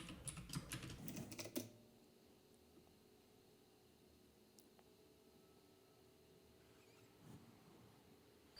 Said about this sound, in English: I'm gonna type update and press enter and type my password